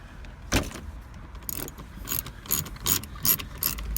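A ratchet with a Torx T30 bit undoes a screw on a Porsche 996/986 steering column stalk, giving short bursts of rapid clicking separated by pauses, close and crisp, with no voices.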